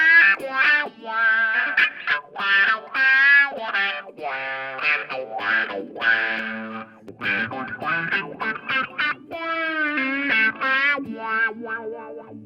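An electric guitar plays a melodic line through medium room reverb, light distortion and a wah-wah effect, giving sweeping vocal-like tones and a bright, sustained, processed sound with short pauses between phrases.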